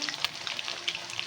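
Butterfly chicken fries in hot oil with a dense, close crackle of rapid pops and spits over a constant hiss, lively and unbroken, with no voices.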